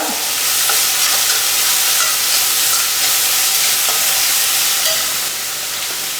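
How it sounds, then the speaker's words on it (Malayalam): Chopped onion, a sprig of curry leaves and green chillies sauté in hot oil in a pan, giving a steady, loud sizzle with faint stirring scrapes throughout and no talking. "തീ കൂട്ടി വെച്ചിട്ട് നല്ലതുപോലെ വഴറ്റിയെടുക്കണം."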